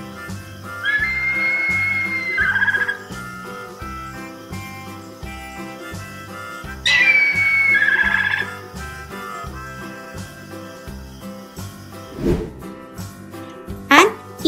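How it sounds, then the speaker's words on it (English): A harpy eagle gives two long, high whistled calls a few seconds apart, followed by shorter sharp cries, over a steady low background. "Harpy eagle."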